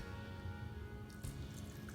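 Water poured into a blender jar of chicken xacuti puree in a home kitchen. It makes a faint, soft trickle and splash with low background noise.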